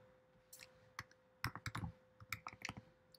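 Several crisp clicks and short bursts of computer keyboard typing, close and quiet, in irregular clusters as a class name is entered, with no talking.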